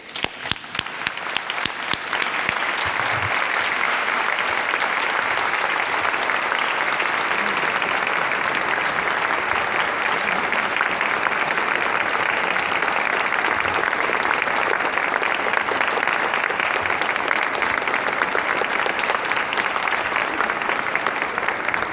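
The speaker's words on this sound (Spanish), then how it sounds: "Todos los aplausos para usted, maestro inmortal." Sustained audience applause fills a concert hall during a tribute to actor Ignacio López Tarso at the Palacio de Bellas Artes in Mexico City, loud and steady from start to finish with no speech over it.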